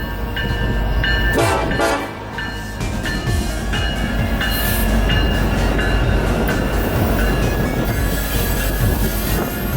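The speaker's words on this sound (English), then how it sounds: "We got on TMDS just to find a southbound coal train approaching the tower." A heavy southbound BNSF coal train rumbles past steadily at night in Crowley, Texas, with squealing wheels and rhythmic clacking, loud and close, continuing the full length with no talking.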